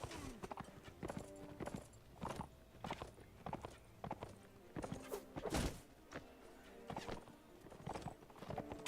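Horse hooves clip-clop in Mount & Blade: Warband, a steady stream of hollow knocks at a walking pace, fairly faint, with clustered strikes continuing throughout and no talk.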